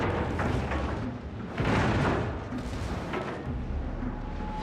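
A salvo of high-explosive shells slams into a ship during a World of Warships naval battle, a dense rumbling barrage of booms and thuds that swells loudly midway and rolls on continuously.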